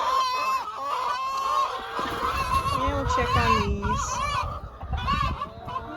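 Chickens cluck and squawk in a farm coop, the bird calls scattered throughout and mixed with a person talking nearby.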